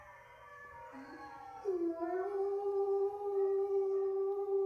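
A dog gives a drawn-out, rising woo-like howl instead of barking, starting with a short whimper and then holding a long, steady tone, close and fairly quiet, with no talk over it.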